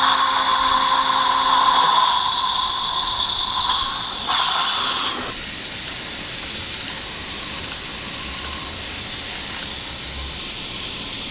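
A dental implant drill whines loud and high while cutting bone for the final 4.5 mm osteotomy at an upper first molar site in guided implant surgery. It cuts off partway through, leaving a steady hiss.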